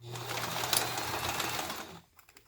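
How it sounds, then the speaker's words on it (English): A sewing machine runs steadily for about two seconds, stitching a zipper pouch with a brief back stitch, then stops, leaving a few faint handling clicks. "And then we start sewing again. Do a little back stitch."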